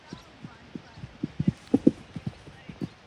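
Horse hooves clip-clopping in a steady rhythm during a show jumping warm-up, close and fairly loud, with some louder strikes midway.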